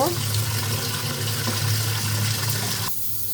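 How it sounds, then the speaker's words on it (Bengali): Running tap water splashes steadily while hilsa fish is rinsed under it, a close continuous hiss over a low hum, cutting off abruptly near the end. "এখানে ইলিশ মাছ ভালো করে ধুয়ে নেব।"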